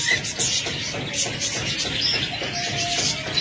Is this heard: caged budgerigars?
yes